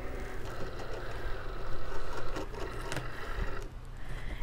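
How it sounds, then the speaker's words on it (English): Cricut cutting machine loading a mat, a close mechanical whir of motors and rollers with small clicks and a brief clunk. "Let me load it. Hit the load button."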